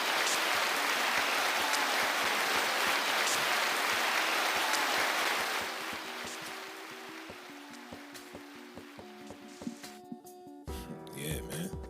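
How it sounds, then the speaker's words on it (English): A crowd's dense, steady applause fills the first half, then thins and fades while music with a sustained low tone rises toward the end. "Round of applause for that, man"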